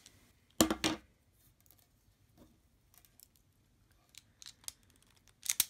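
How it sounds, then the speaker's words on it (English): Wire cutters snip through lengths of wire for a fightstick build: one loud, close crisp cut near the start, a few faint clicks and handling noises, then another sharp snip at the end. "Just going to cut a few lengths of wire here."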